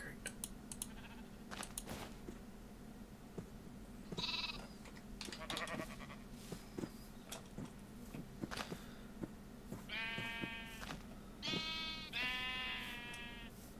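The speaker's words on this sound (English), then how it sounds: "Shut up, sheep." Minecraft sheep bleat in the game, several wavering baa calls clustered near the end, mixed with scattered keyboard and mouse clicks and in-game footsteps.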